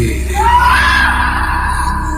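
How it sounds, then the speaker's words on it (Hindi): A woman screams as a horror story effect, a rising, drawn-out cry over a steady low background that fades toward the end. "दीपशिखा के चीखने और चिल्लाने की आवाज से उसकी मां वहां दौड़ी दौड़ी आई"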